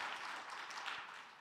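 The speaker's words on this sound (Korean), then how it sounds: "이분들께 우리 한번 좀 감사의 박수하면 좋을 것 같습니다" A church congregation at an early-morning special prayer service applauds briefly. The clapping is faint, dense and steady, with no voices over it.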